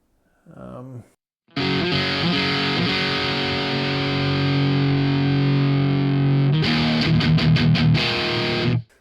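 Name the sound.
distorted electric guitar through EQ pedal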